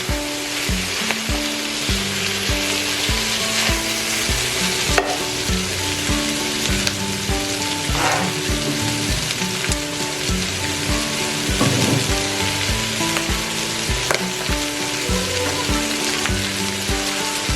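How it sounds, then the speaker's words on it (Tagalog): Chicken balls fry in a crowded pan for stir-fried sotanghon, giving a loud, steady sizzle and crackle that runs the whole time, with faint utensil clinks and music or background sounds underneath. "Ilagay na natin yung yung chicken balls."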